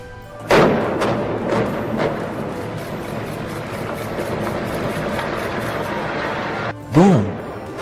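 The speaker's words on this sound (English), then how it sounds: "Boom! There it goes. The whole hotel just sinks into the ground, clean and fast." Demolition blast brings down a hotel's towers: a sudden loud thump opens a deep, sustained rumble of collapsing structure that rolls on steadily, with a second short burst near the end.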